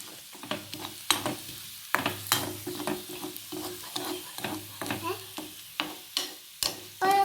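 A spoon stirs prawn curry in a pan after the gas is off, making rhythmic scraping and clinking strokes about once a second over a faint simmer, close up and fairly quiet.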